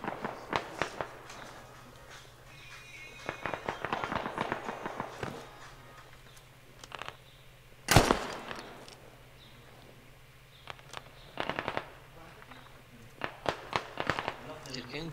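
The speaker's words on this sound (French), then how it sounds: "Je me fais tirer dessus." Gunshots in a multiplayer shooter game pop in scattered bursts, one sharp loud crack standing out, mixed with footsteps while players talk over it.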